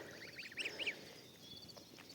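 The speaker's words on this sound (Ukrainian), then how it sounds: "Гусики, індусики їдять." A few faint honking calls from feeding geese and turkeys in quick succession, distant and brief against a quiet outdoor background.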